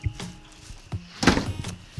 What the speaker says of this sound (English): Let me shut this other door really quick.